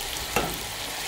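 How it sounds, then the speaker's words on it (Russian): Colourful vegetables for borscht fry in a pan, a steady close sizzle with one brief louder crackle partway through, no talk. "И пока оно все жарится"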